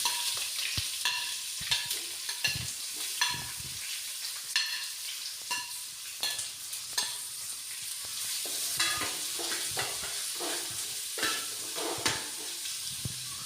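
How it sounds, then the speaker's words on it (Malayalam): Sliced onions frying with coconut pieces in a pan, heard as a continuous sizzle with frequent rhythmic spatula scrapes and knocks against the pan throughout, no talking. "തേങ്ങാക്കൊത്ത് ഏകദേശം മൂത്ത് വരുമ്പം ഇതിലേക്ക് നൈസായിട്ട് അരിഞ്ഞ 2 വലിയ സവാളയാണ് ചേർത്ത് കൊടുക്കുന്നത്"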